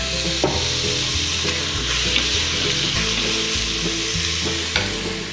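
Beef sears in a hot pan with continuous loud sizzling and crackling, plus occasional stirring scrapes.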